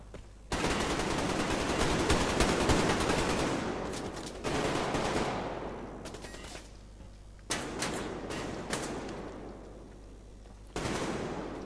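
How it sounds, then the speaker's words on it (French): Gunfire in the Survarium shooter: carbine shots and bursts ring out in four loud volleys, each starting abruptly and tailing off with a long echoing decay, with no speech over them. "Il l'a tiré visiblement avec une carabine."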